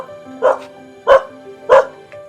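Three sharp dog barks ring out at an even pace, loud and close, with a faint whine between them and no talking.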